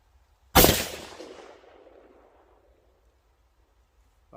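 A single loud rifle shot from an Accuracy International AX .308 in FDE, a sharp close crack followed by a long rolling echo fading over a couple of seconds, no talking.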